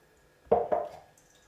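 Two quick, soft wet squelches of almond milk being squeezed through a fabric straining bag, close and quiet, then stillness.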